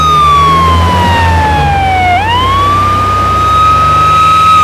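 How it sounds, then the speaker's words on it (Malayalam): An ambulance siren wails loud and close, one long tone sliding down, dipping, then rising again over a low engine rumble. "നാരായണ, ആ ആംബുലൻസ് ഒന്ന് ഒതുക്കിക്കോളി."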